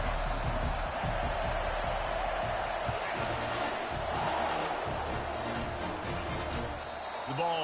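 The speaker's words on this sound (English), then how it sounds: "This crowd bringing an ear-splitting welcome to their visitors." Loud, sustained roar of a packed college football stadium crowd cheering as Texas A&M kicks off to open the game, a dense wall of noise with swells and shouts throughout.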